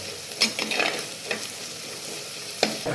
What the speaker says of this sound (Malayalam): എല്ലാം വഴറ്റിയെടുക്കുക. അപ്പോൾ നമ്മുടെ ഉള്ളിയെല്ലാം ഏകദേശം മൂത്ത് വന്നിട്ടുണ്ട്.